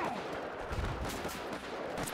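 Gunfire crackles during a Battlefield 4 Rush multiplayer match, a dense, noisy burst of shots and distant reports rolling together over about two seconds, fairly loud with no voices over it.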